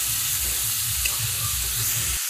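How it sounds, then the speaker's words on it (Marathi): Tomatoes frying in hot oil with a gravy masala for gavar, giving a steady close sizzle and hiss with soft scraping stirs throughout. "टोमॅटो ही चांगला व्यवस्थित परतून घ्या."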